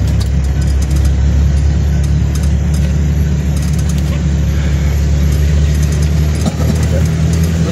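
Owner-type jeep engine running in the Philippines, a steady low rumble close by that holds level throughout, with faint background noise over it.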